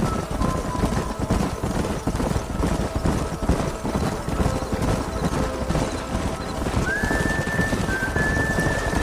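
Horses thundering along at a gallop in the Red Dead Redemption video game, a dense steady rumble of hooves with a musical tone rising in near the end.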